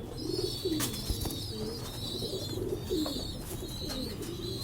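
Chinese pigeons coo in repeated soft, throaty phrases, close by, with faint chirps and background noise around them.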